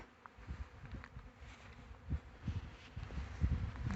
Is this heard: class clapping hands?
no